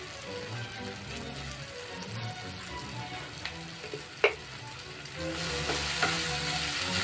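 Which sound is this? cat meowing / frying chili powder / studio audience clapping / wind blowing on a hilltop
frying chili powder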